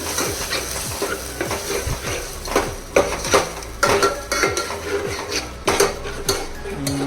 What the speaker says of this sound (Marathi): बढियापैकी याला मिक्स करून घेऊ